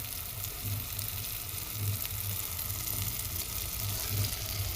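Steady sizzling and frying as buttermilk goes into a pan of ridge gourd curry, a constant crackling hiss with occasional stirring, close by and with no voices.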